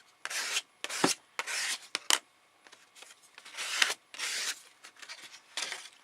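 A brush scrubbed over card while painting an art journal background, repeated short dry strokes in bursts with brief pauses, close and fairly quiet.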